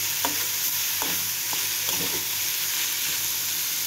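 A spoon stirs vermicelli upma in a pan, giving several scraping strokes and soft clicks over a steady high sizzle, close and moderately loud with no talking.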